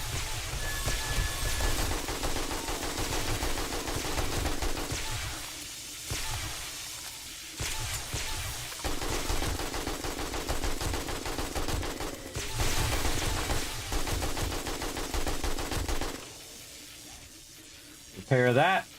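AK rifle fire in 7 Days to Die: sustained rapid automatic bursts rattle on loudly, broken by short pauses, while a voice talks over the shooting.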